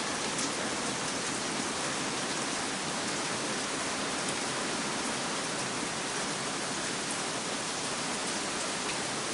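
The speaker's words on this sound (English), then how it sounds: "The rain's coming down hard too." Heavy rain pours down steadily outdoors at night, a dense, constant hiss of drops on surfaces that fills the whole scene without a break.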